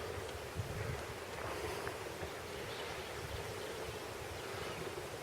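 Wind blows steadily through open woodland in Weiser State Forest, a soft, broad rushing that stays fairly faint and constant, with light gusty buffeting at the microphone and no voices.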